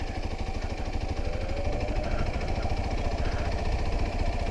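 A Kawasaki Ninja motorcycle engine runs close and steady at low revs as the clutch is slowly let out, a continuous throbbing drone with no voices.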